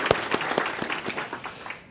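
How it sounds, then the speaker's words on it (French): A conference audience applauds at a plenary session, a dense patter of many hands clapping steadily and fairly loudly, fading slightly toward the end. "Je vous invite donc à les applaudir."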